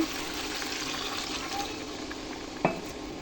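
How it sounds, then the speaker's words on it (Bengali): Water poured into a potato curry simmering in a pan gives a steady frying hiss and liquid wash, with one brief sharp clink near the end. "এবার আমি জল দিয়ে দেবো"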